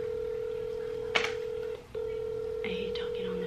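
A steady telephone tone is interrupted by a keypad press while a phone number is dialed, followed by a brief gap and a couple more tones, with a voice talking over them.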